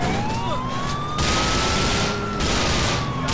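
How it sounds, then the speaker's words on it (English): Rapid gunfire aimed at a car's tires in the video game GTA IV, a burst of shots layered over a wailing police siren and traffic noise, loud and dense throughout. "Yeah, I shot his tires!"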